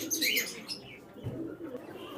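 A pair of Kamagar pigeons, a male and a female, are on offer at a pigeon sale, where brief low coos mix with a high chirp over a busy, murmuring backdrop.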